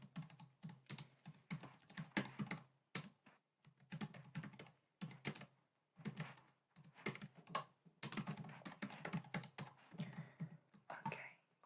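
Steady computer keyboard typing in a quiet room, soft close keystrokes in bursts with short pauses between runs, no talking.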